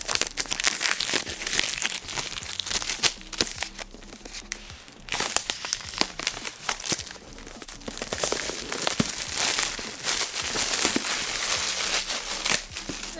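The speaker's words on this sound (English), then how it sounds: "go ahead and unbox this for you all really quick" Apple AirPods Max packaging being opened and handled, with loud, close crinkling, crumpling and tearing of paper and plastic wrap that continues in dense bursts from start to finish.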